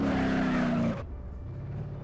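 A modified car's engine in the 2013 first version of the video game BeamNG.drive, a loud steady revving drone that cuts off abruptly, leaving a lower idle rumble.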